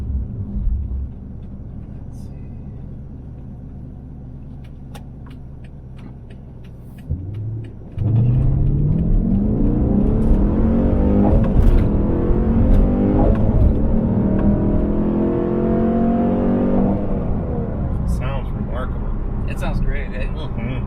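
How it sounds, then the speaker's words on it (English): A cammed Dodge Challenger R/T pulling hard through third gear: a low rumbling idle that jumps into a loud, steadily rising engine roar, continuous and close, with people talking over it. "That third gear pull was strong."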